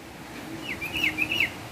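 Sooty-headed bulbuls call in a garden near a cemetery, a short run of clear rising and falling whistled chirps at moderate distance over a steady background hum.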